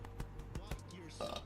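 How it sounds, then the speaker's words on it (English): A short burp from a streamer over a steady low background hum, among a few brief voiced bursts. "hold on, I got a burp."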